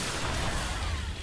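Gunfire in the sci-fi shooter video game Destiny, a dense burst of loud, noisy blasts filling the short moment with heavy low rumble and broadband crackle, no voices heard.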